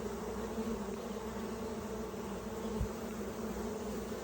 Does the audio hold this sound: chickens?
no